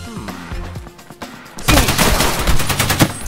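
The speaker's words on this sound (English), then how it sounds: "Anyway, I started blasting." Automatic and rapid gunfire in the shooter game Escape From Tarkov, loud bursts of closely spaced shots that start softer and swell into a dense, sustained volley in the second half.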